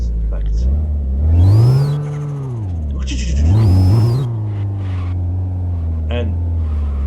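A video game car's engine hums at a steady drone, then revs up and falls back twice in long, loud surges, with a brief swell between and light speech in the background.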